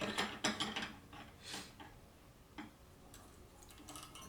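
Close, quiet ratcheting clicks and small mechanical taps come in short bursts as a fitting is tightened on a Makita router, with brief pauses between the bursts.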